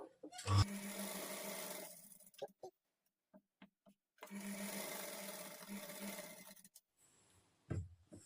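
A sewing machine stitches a fall onto a saree in two long, steady runs of whirring, separated by a pause filled with soft isolated ticks and clicks, ending in a brief thump.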